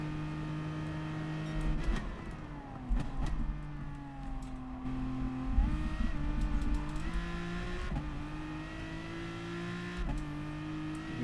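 Group 3 race cars roar around Monza in Gran Turismo Sport, a close engine note climbing and dropping through repeated gear shifts, loud and without talk.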